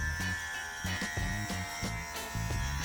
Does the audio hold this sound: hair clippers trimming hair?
yes